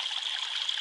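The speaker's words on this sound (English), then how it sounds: "The water comes down the easement from streets below, streets above." Storm water rushes steadily down a backyard easement behind a suburban house, a continuous hissing, splashing flow heard close and alone without any pause.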